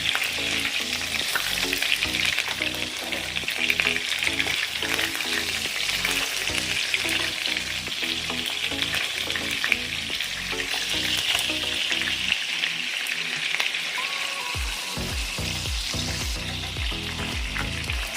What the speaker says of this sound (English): So I just flip these over and I'm gonna let them get a good sear.